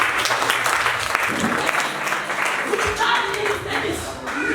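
A church congregation applauds their pastor with loud, sustained clapping while a voice speaks over it.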